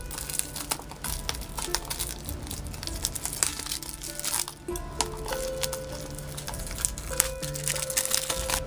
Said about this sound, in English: Let's get them out of the wrap and check out the packaging.